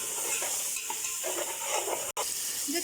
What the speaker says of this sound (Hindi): अब मैं इनको इसमें चला लूँगी अच्छी तरह चम्मच